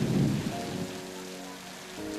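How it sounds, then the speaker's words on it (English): A heavy thunderstorm sweeps over a valley, with low rumbling thunder and rain beneath it that loudens at the start, fades, and then swells again near the end. "a heavy thunderstorm swept over the valley."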